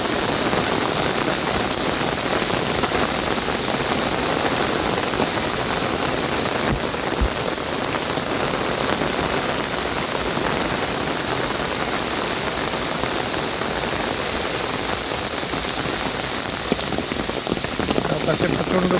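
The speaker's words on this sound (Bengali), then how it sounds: "দেখেন কী পরিমাণ বৃষ্টি" Heavy rain pours steadily on surfaces outdoors on a morning street, a dense, loud, unbroken hiss of drops with no pauses.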